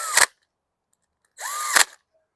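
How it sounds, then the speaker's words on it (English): A DeWalt drill runs in forward, driving washer-head screws into the bowl of a 2018 Murray walk-behind lawn mower: two short, loud bursts of whirring motor, each ending in a sharp stop, separated by about a second of silence. "Switch the DeWalt to forward."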